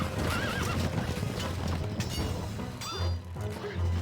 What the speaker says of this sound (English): Our horses are ready.